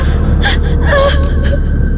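A woman cries in a horror radio-drama sound effect: breathy, shuddering sobs and gasps break into a wavering, drawn-out wail, loud and close with no other voices.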